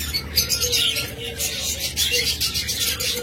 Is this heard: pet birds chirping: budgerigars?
yes